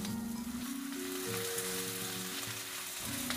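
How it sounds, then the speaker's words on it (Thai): Wide rice noodles and Chinese kale stir-frying in a hot pan, with a constant crackling sizzle and occasional stirring noises, close and steady, with no speech. "จากนั้นก็ใส่ก๋วยเตี๋ยวเส้นใหญ่ลงไปปริมาณ300 กรัมค่ะ"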